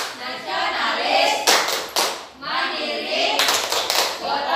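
Schoolchildren in a grade 5 classroom perform the PPK clapping chant, voices chanting in unison over bursts of rhythmic group clapping that swell, pause briefly, then resume loud and close.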